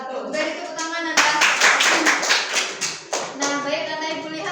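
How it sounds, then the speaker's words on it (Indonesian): An audience claps loudly and steadily throughout, with a voice speaking over the applause. "Beri tepuk tangan Anda."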